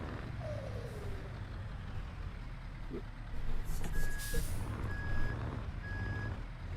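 A Scania S truck in Euro Truck Simulator 2 backs up, its reversing alarm giving four or five evenly spaced, clear beeps over a steady low diesel idle and rumble.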